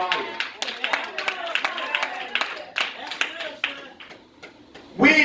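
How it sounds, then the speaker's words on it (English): Church congregation clapping hands in praise during a sermon, a steady run of close, sharp claps that fades toward the end. "Give God a hand clap of praise"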